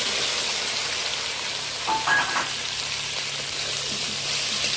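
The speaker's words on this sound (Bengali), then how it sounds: "কড়াইতে কিছুটা পরিমাণ তেল রয়েছে, দেখুন ওই তেলেই আমি ঢ্যাঁড়সটা দিয়ে দিই" Okra frying in hot oil in a wok, a loud dense broadband sizzle like steady rain, with a brief clatter partway through.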